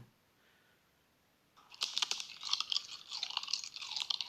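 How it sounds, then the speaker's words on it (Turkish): A man bites and chews a plate, starting after a quiet pause with loud, close, rapid crunching that keeps going steadily to the end. "Adam delirdi tabağı yiyor ya."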